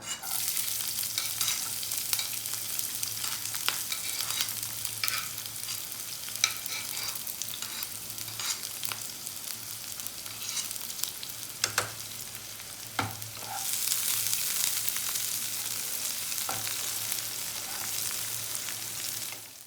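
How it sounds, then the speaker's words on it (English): One finely chopped onion frying over low flame for masoor dal tadka, a long steady sizzle with intermittent spatula stirs and scrapes, growing slightly louder toward the end, no talking. "So now I'm just going to cook these onions till they are slightly translucent"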